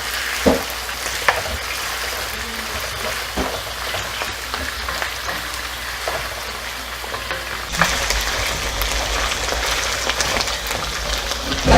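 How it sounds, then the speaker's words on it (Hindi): Mutton karahi fries in a pan with a steady loud sizzle and crackle, occasional stirring knocks, and a brighter, more intense hiss near the end. "थोड़ा इसको हम फ्राई करेंगे।"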